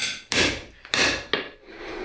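Three sharp hammer blows ring out on metal, irregularly spaced, each with a bright clanging decay, close by with no talking.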